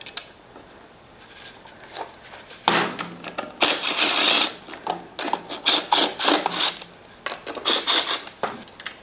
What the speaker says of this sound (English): Tighten this sucker down in a cross pattern.